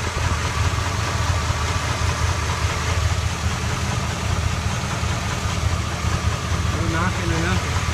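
A rebuilt engine in a 1977 Ford F-150 idles steadily with a constant low rumble and no knocking, close and continuous throughout with no breaks.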